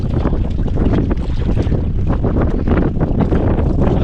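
An approaching boat's engine drones steadily under heavy wind buffeting the microphone, a loud, continuous rumble out on open water.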